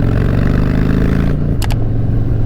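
A Harley-Davidson motorcycle fitted with a Memphis Shades Road Warrior fairing runs steadily on the road, its low engine drone constant and loud throughout, with a brief higher rattle near the middle.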